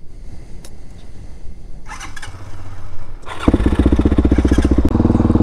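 A DRZ400SM motorcycle on a ride out to Fort Island and Ozello, its engine building from a low idle to a loud, close, steady rhythmic throb as it pulls away.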